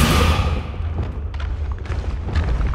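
Descendo slamming spell impact in the video game Hogwarts Legacy, heard as a loud booming thud that opens with a bright burst and settles into a rumbling low tail with scattered smaller knocks and crackles.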